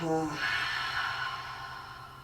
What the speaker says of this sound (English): Take a big inhale, then a big exhale.